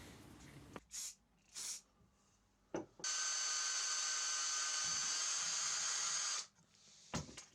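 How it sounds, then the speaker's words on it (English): A drill bores slowly and steadily through soft copper in a workshop, a single continuous high-pitched whine lasting a few seconds, close and loud, preceded and followed by short bursts of handling noise. "even soft metal like copper, slow and steady wins the race, unless you want a bazillion broken drill bits"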